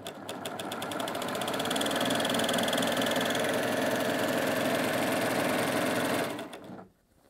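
A Baby Lock Primo coverstitch machine runs a wide two-needle cover stitch in one continuous, fast, loud hum and rattle for about six seconds before stopping abruptly, with no talk.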